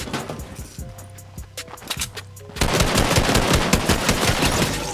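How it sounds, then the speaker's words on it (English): A minigun fires in the video game Fortnite, starting with scattered bursts, then breaking into a loud, continuous rapid stream of shots that lasts several seconds. "With this freaking minigun."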